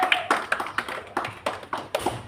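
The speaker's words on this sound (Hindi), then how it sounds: "एक बार 10 के लिए तालियां हो जाए।" Pupils in a gurukul classroom clap together in a quick, steady rhythm of about ten sharp claps, close and fairly loud, with no talking over them.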